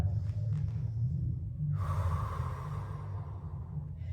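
One deep, audible inhale through the nose during a slow yoga flow, breathy and close, rising after a quiet stretch and then tapering off.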